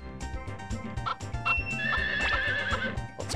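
A horse whinnies loudly in the video game Harvest Moon 64 over a background of clip-clopping hooves and knocking sounds, close and clear, with no talking.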